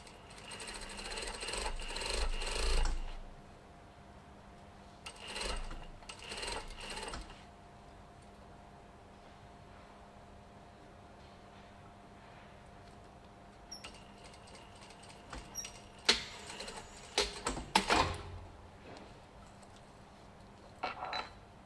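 A sewing machine stitches an invisible zip in several short runs of rapid mechanical whirring and clatter, separated by quiet pauses with a faint hum, close and moderately soft.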